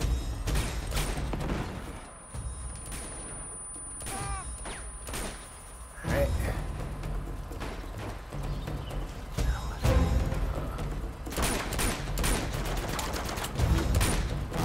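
Pistol shots and bursts of gunfire ring out in the video game Uncharted 2 Remastered, sharp cracks scattered irregularly across a busy, clattering game soundtrack, with a voice briefly speaking over it.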